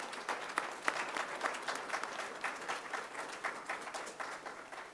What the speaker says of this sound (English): give a round of applause to our panel.